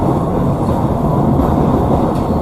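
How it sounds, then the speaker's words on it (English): Loud, steady rumble of a passing airport train, close and continuous, with no pauses. "Oh, that's the airport train."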